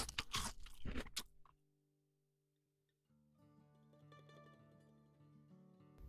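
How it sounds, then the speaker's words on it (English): A cartoon shark munches and crunches a sand house in a children's story, heard as a loud burst of rapid crunching bites, then a quiet pause before soft background music. "So the big bad shark munched and he crunched until he got a sandy mouthful and the house crumbled"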